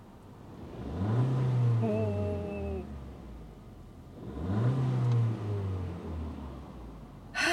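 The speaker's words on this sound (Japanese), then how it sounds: "せっかくなのでちょっとね吹かさせていただこうと思います" A Volkswagen Golf Touran TSI engine revved twice while parked, each blip rising sharply then settling back to idle, moderately loud and close, with a brief voice at the start.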